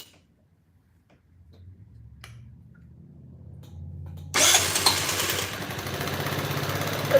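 A scooter engine fitted in an engine swap cranks with low ticking and whirring, then catches and runs loudly from the midpoint on, with a steady broadband idle roar close by.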